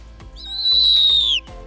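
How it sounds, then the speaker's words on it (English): A single shrill, drawn-out owl screech rings out up close, lasting about a second, with faint clicks and handling noise around it. "Naughty bitey owl."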